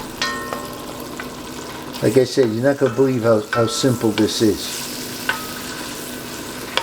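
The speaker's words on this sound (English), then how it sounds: "Now hear that sizzling?" Food sizzles and crackles steadily in a pan throughout, with someone talking over it in the middle stretch.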